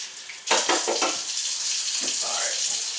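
Water gushing from a kitchen tap into a bowl while preparing pulled pork, starting abruptly with a loud splashing rush and continuing as a steady hiss.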